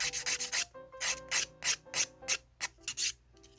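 A hand file rasps gel nail polish off a fingernail in a row of short, even back-and-forth strokes, close and clear with brief gaps between each rub.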